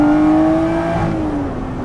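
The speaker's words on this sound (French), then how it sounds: "Le moteur est d'une réactivité, en fait vous pilotez un moteur avec votre pied droit" A Lotus Exige 430 Cup's engine accelerates on the road, a loud, close engine note climbing in pitch before easing off near the end, with no talking.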